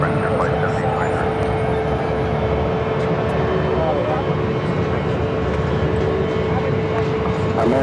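Airliner taking off from runway 7 left at Phoenix airport, a broad continuous jet roar sustained at steady loudness, with faint tower radio chatter underneath.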